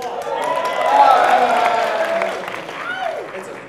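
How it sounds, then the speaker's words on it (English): An audience at a PAX Prime panel gives a burst of applause and cheering that swells and then tapers, heard under someone speaking and crowd chatter. "The people applause."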